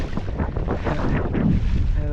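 Strong wind gust roars across the microphone while windsurfing on open water in big winter west winds, a loud continuous buffeting rush with sail and water noise, close and unbroken.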